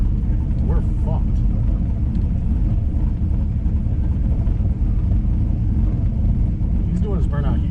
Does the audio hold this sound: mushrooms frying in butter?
no